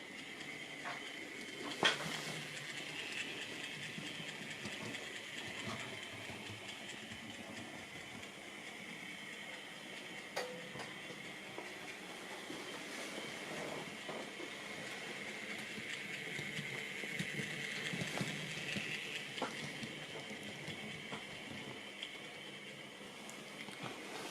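A Hornby B2 Peckett model locomotive runs on a track with a faint, continuous motor whir and light rattling, with a few small clicks along the way.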